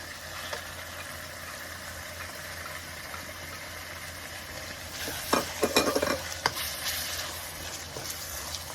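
Red onions hit a hot pan of fried rice, giving a steady low sizzle with brief louder stirring scrapes toward the end, close and fairly quiet with no talking.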